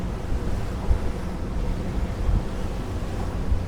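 Steep sea waves slap against a Prestige M48 motor yacht underway, heard as a low, continuous rushing wash with a few heavier thumps of impacts, mixed with wind buffeting the microphone and no speech.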